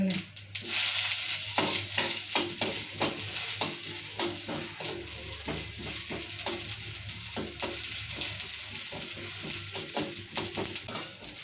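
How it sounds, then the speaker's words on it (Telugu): Sesame seeds, peanuts and garlic dry-roasting in a pan for ivy gourd chutney, with a steady close sizzle and repeated scraping strokes as a spatula stirs them, continuous throughout. "ఇవన్నీ వేపుకోవాలి ఎల్లిపాయలు కూడా వేసుకున్నాము"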